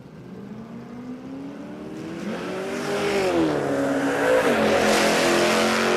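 Drag racing cars accelerating hard down the strip at Warwick Dragway in Australia, a rising engine roar that swells louder as the cars launch and pull away, with no talk over it.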